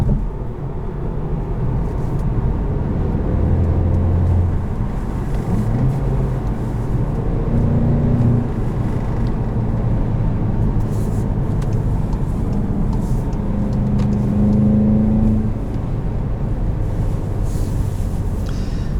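A 2021 Volkswagen Golf GTI SE with a manual gearbox accelerating, its engine drone steady and loud throughout with rising and falling tonal pulls as it revs, heard from inside the cabin with no talking.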